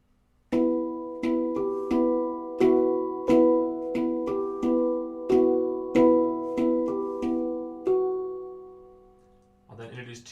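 A slow guitar run from the Halo Aegean solo walks back down, with evenly spaced plucked notes descending and ringing clearly. The final note decays before someone starts talking at the end.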